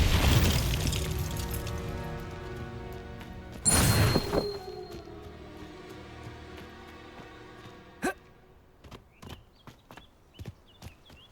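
Confringo blasting spell from Hogwarts Legacy bursts in a loud, broad blast, then trails into ringing tones with scattered sharp crackles and thuds afterward.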